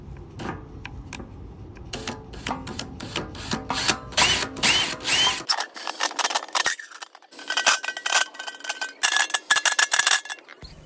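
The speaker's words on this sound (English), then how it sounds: "I'm using a 1/2 inch drill bit to make the holes for the couplers." Electric drill with a 1/2 inch bit boring holes for couplers on a homemade automotive smoke machine, in bursts of whining, grinding drilling separated by brief pauses and rattling, clicking handling noises.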